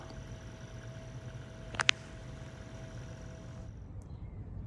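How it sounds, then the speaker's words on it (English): A boat engine running smoothly at sea, a low steady drone and rumble throughout, fairly quiet, with a couple of brief sharp clicks near the middle and no talking. "The engine's running like a top."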